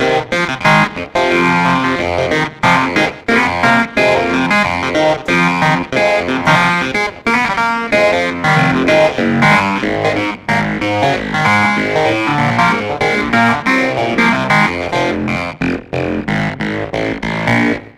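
A keyboard plays dense, sustained chords with a sweeping, swirling effect and some grit, loud and continuous throughout.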